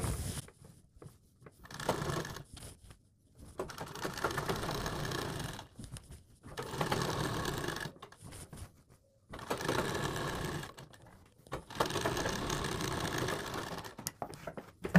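Sewing machine stitching along buckram around a blouse neckline, running in several steady bursts of a few seconds each, separated by short pauses, with no talking.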